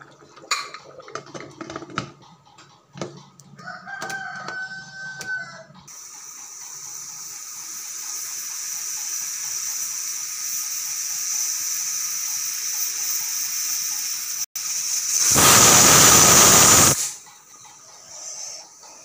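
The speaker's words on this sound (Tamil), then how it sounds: "நாலு விசில் வந்துருச்சு" A pressure cooker of home-style chicken biryani lets out one loud, sustained steam whistle lasting about two seconds, following a long, steady hiss of escaping steam and earlier kitchen clatter.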